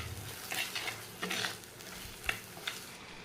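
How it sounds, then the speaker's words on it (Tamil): Sesame oil sizzles steadily while a spoon stirs and scrapes through a spice paste in a pan, with a few sharper clinks of utensil against metal. "நல்லெண்ணெயிலேயே எல்லாத்தையும் நல்லா வதக்கி விடுங்க"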